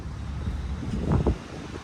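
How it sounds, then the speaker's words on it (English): Wind blows outdoors beside a Texas courthouse in Parker County, a constant low buffeting rumble with a couple of stronger gusts near the middle. "it is windy today, so we have to be careful of that"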